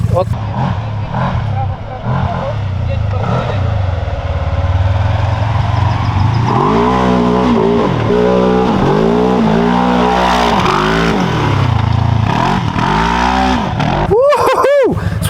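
A revving Segway side-by-side off-road vehicle engine drives close by, rising and falling with acceleration and gear changes, loud and continuous.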